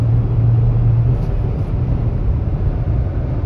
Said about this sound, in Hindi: हाँ इंजन पूरा वाइब्रेट मार रहा है।